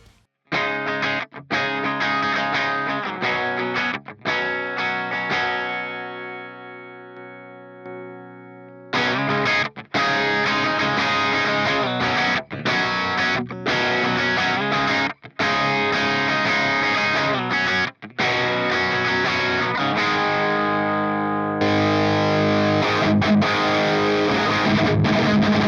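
Guitar played through a BIAS Head amp's distorted preamp, stepping from one up to five preamp tubes, with the gain growing thicker; loud, sustained chords and riffs with brief pauses between passages, no talking.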